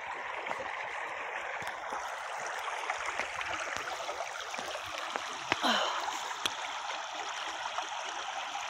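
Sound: stream water flowing on a walking path

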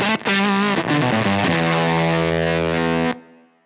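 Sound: electric guitar through JHS 3 Series fuzz pedal

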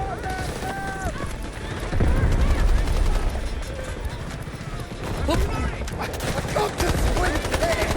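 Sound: gunfire and explosions in video game Delta Force, M7 assault rifle

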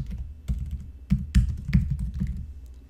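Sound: typing on a computer keyboard

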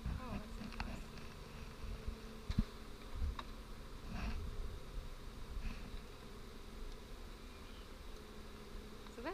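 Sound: bees buzzing around a bee barrel hive

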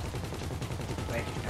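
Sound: gunfire in the video game GTA Online heist

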